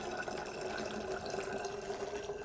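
Water pours from a Willsence gooseneck kettle in a steady, continuous trickling stream, close and even throughout, with no speech.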